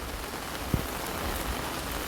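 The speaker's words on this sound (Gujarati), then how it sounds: "આ છે મિત્રો વરસાદ વરસાદ ને વરસાદ" Heavy, steady afternoon downpour in a village, a dense even hiss of rain throughout, with a single soft knock near the start.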